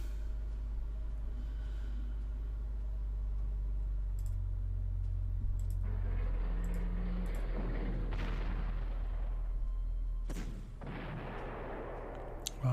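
Artillery fire from the Panzer Corps wargame: a low steady rumble carries broadband blasts and crackling bursts in the middle of the stretch, with a few sharp clicks before and after. No one speaks.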